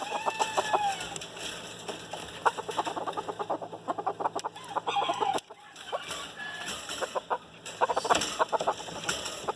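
A Ko Shamo rooster being judged crows and clucks in repeated bursts, with other fowl calling nearby through the whole stretch and no voices over it.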